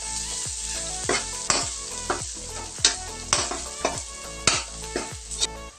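Garlic cloves, still in their skins, sizzle in hot oil as they fry golden brown, with a steady crackle and repeated scraping stirs that land about once a second, close up and with no voices.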